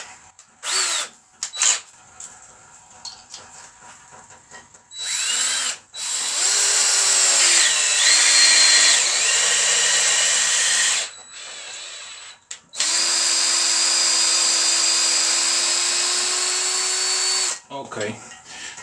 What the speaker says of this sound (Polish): Teraz dołożymy sobie przejściówkę, żeby dojechać tym gwintownikiem do samego końca.